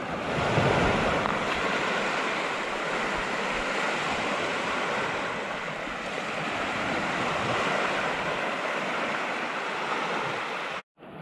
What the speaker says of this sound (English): At a beach on our way to Bob's Cove.